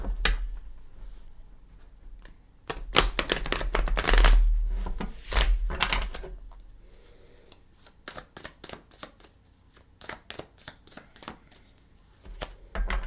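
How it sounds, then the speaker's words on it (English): Rapid riffling bursts of a tarot deck being shuffled, a few dense flurries followed by quicker separate snaps and taps, close and crisp. "I'll go ahead and give them a couple shuffles."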